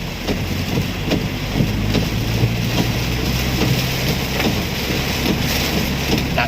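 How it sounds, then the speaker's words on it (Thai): Heavy rain pounds a car in Salaya, Nonthaburi, with the wipers on a fast setting, making a loud, unbroken roar marked by faint, regular thumps. "ตอนนี้ยังไม่หยุดเลยไม่หยุดเลย ยิ่งหนัก ยิ่งหนักกว่าเดิม นี่ปัดน้ำฝนเบอร์สองเบอร์สามเลย"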